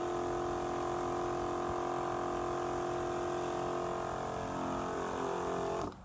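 A Milwaukee M18 battery-powered backpack sprayer, modified, spraying water through a 15-degree nozzle tip: a steady, even hiss with a constant pump drone that runs unbroken for about six seconds, then cuts off abruptly.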